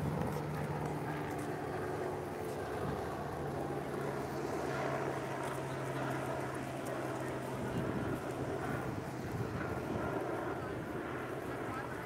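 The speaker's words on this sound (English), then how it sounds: "All these helicopters over Bondi" A continuous low droning rumble of several helicopters overhead at Bondi, Sydney, persists throughout, joined by wind buffeting and some background noise.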